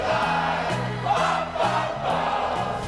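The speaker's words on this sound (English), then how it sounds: "massive crowds" Massive crowd roaring at the Flemington horse races on Turnbull Stakes Day, a dense, steady swell of voices with a rhythmic low pulse running beneath and occasional louder surges.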